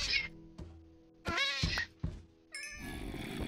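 A cat in the video game Minecraft gives a few short meows and grunts among brief game sounds, sparse and fairly close.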